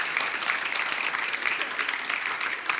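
An audience at a law school event hosting appeals court sessions gives a brief, dense round of applause, a continuous patter of many hands clapping at steady volume for a few seconds.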